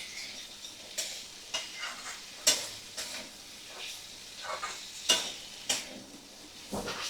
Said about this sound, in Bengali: এবার মশলাটা ভালো করে আমি কাবলি ছোলার সাথে সমস্ত কিছু মশলা আর চিকেন সমেত কাবলি ছোলা আমি ভালো করে কষিয়ে নেব।